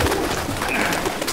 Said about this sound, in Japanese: 鳩